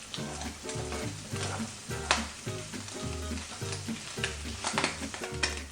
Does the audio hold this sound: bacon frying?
yes